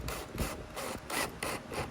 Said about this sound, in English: So I went ahead and got a 1/4 inch drill bit. And what we'll do, drill right through our mark.